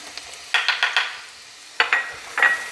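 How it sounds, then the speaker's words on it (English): A butter and flour roux stirred in a pan for homemade cream of mushroom soup, giving soft scraping swishes in two bursts, a quick run of four strokes and then a few more after a pause, with light sizzling beneath. "Now you're going to create the roux. And just give that a mix."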